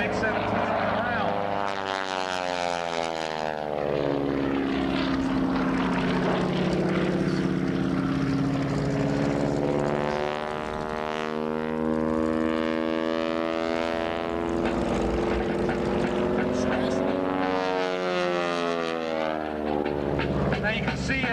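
T-6 propeller aircraft fly at a 1996 Valiant Air Command air show, their droning engines sweeping up and down in pitch as the planes pass overhead, loud and continuous.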